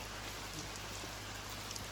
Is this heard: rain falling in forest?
yes